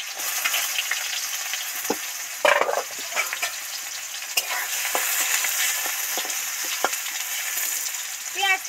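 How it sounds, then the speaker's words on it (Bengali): Chopped onion fries in hot oil with dried red chili and bay leaf, giving a steady close sizzle broken by scattered scraping stir clicks, with no talking. "পেঁয়াজ তো সফট করে ভাজা হয়ে গেছে।"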